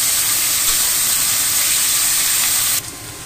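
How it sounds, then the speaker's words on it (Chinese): Lamb blood and Chinese chives sizzle in a hot wok, a steady loud hiss that carries on unbroken and then drops suddenly to a quieter simmer near the end. "羊血炒韭菜"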